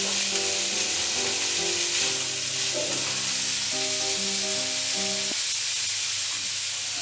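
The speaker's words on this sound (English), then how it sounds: "Let it fry for 2 or 3 minutes." Banana stem frying in a pan, a steady, close sizzle that carries on without a break, with faint stirring textures and no voices.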